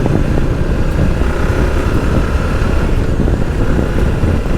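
A Moto Guzzi Stelvio motorcycle's engine drones loud and continuous while riding toward the mountains, a dense low rumble mixed with heavy wind buffeting, with no pauses.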